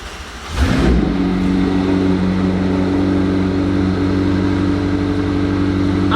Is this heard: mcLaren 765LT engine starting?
yes